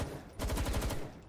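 Gunfire in the video game Palworld, aimed at a creature during a capture attempt: a short rapid burst of several punchy shots following a brief lull, loud and close, with no talk over it.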